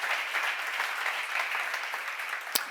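A church congregation at a seminar applauding, a dense, even patter of many hands heard from a little distance, steady for a few seconds and ending with one sharper clap.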